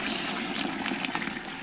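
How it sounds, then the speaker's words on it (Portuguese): Hot water gushes and splashes steadily into a large batch of homemade liquid laundry soap made from used cooking oil, a brief continuous pour with no voices. "coloca a água quente"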